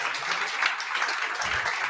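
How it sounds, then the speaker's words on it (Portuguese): Church congregation clapping together in steady, dense applause that fills the space, heard alone without speech over it. "Aplaudam Jesus sobre isso."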